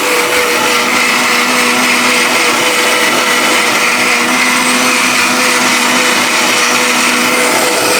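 Miyako stainless steel blender with a copper motor running at full speed, a loud, steady, high-pitched whirring drone that continues unbroken and close up throughout.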